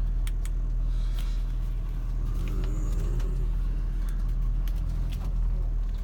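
A Ford 6.7 diesel pickup drives along with a steady low engine drone and road rumble, plus occasional faint clicks and rattles.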